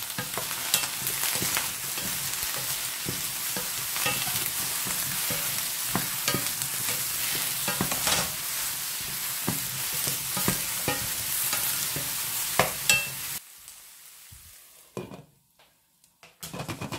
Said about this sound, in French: je vais commencer par chauffer un fond d'huile pour faire la cuisson des cubes d'aubergine